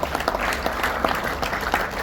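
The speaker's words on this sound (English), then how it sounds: "Please, can you help us applaud them?" An audience claps together at a palm estate presentation in Nigeria, producing a brief, dense burst of applause.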